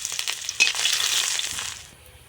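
Chopped onion hits hot mustard oil in a wok, bursting into a loud sizzle with a sharp crackle at the start, then a bright frying hiss that fades toward the end.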